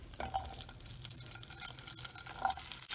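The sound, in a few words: vegetables sauteing in oil for kadai paneer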